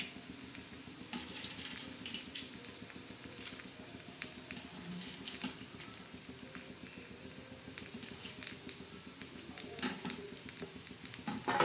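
Masala being dry-roasted and stirred in a pan for rassa vadi curry, a steady sizzling hiss with continual scraping of the spoon, close and even throughout with no talk.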